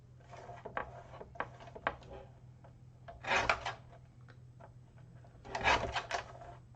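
Paper cards being trimmed down to size for a postcard journal book, with quiet scraping and rubbing strokes and two louder bursts of cutting, close and faint in a quiet room.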